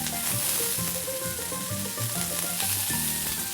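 Green and red peppers sizzling on a hot flat cooking surface for corned beef hash, a steady loud crackling fry with faint scraping and tonal clinks of tools layered over it.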